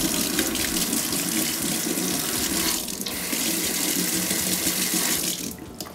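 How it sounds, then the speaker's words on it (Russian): Tap water running in a college dormitory, a constant splashing stream into a sink, near and steady with a couple of brief dips in flow. "По санитарным нормам в кране должна быть холодная и горячая вода."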